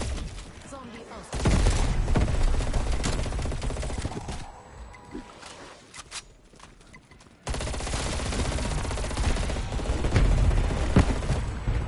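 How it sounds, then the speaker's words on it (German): Automatic gunfire in Call of Duty Cold War zombies mode, loud sustained bursts of shooting with a brief lull in the middle before the firing resumes at full intensity. "Immer auf den Kopf schießen"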